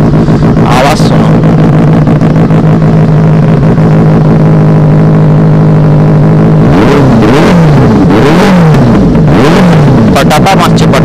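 A Benelli 600i motorcycle with an SC Project exhaust idles loudly and close, then revs repeatedly in sharp rising and falling bursts, with excited voices over the engine.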